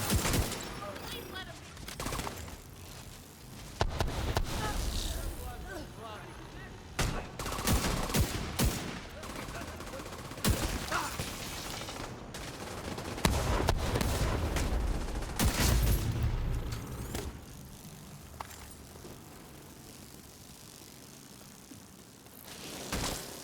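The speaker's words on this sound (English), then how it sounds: "just spam fire the chest" Rapid video-game gunfire sprays in repeated bursts of sharp cracking shots, loud and close, broken by short pauses, with a voice talking between and under the volleys.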